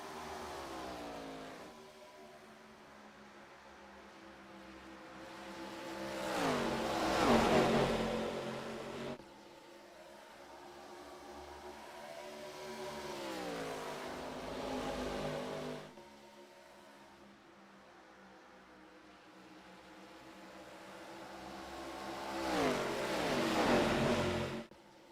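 ARCA Series race cars roaring past on a NASCAR oval, heard trackside: engines swell as cars approach and fade as they pass, two distinct pass-bys with a steady background drone between.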